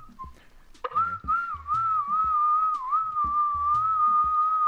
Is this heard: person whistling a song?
yes